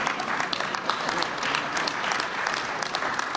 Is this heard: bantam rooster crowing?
no